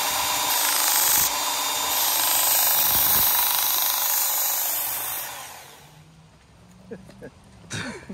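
A circular sander grinding a World War bayonet blade, a loud steady whine for about five seconds that winds down, followed by someone talking and small clatters.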